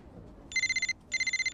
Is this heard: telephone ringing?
yes